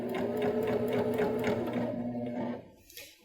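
Baby Lock Jazz II sewing machine stitching quilt binding at a quarter-inch seam, a steady fast mechanical whir with rhythmic needle ticks, then stopping near the end.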